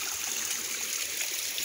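Stream water flows steadily through Lilydale Park along the Brickyard Trail, a constant bright rushing trickle at modest level with no voices.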